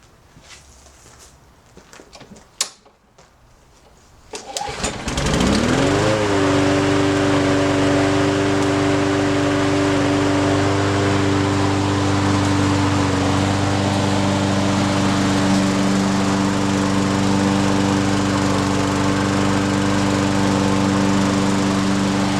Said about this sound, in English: let's take a listen to a 4-stroke cycle